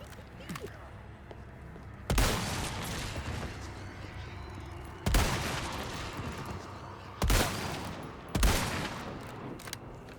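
Rapid bursts of video game gunfire erupt four times over a steady game soundscape, loud and sharp, with short gaps between volleys and a player talking intermittently.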